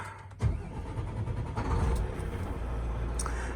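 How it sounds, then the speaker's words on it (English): A 2026 Volvo VNL860 truck with a 455-horsepower D13 diesel cranks and fires up, then settles into a loud, steady low idle rumble nearby. "Let's start this truck up and see how it runs."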